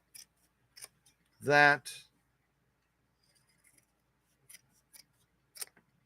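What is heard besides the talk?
scissors cutting sewing thread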